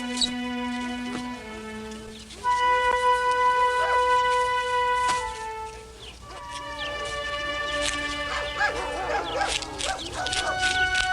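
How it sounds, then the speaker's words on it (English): Dogs in a small village on a reserve bark and yelp in overlapping, tonal howls and barks, fairly close and loud, with several animals calling at once and no talking. "The dogs have to be kept healthy and nourished."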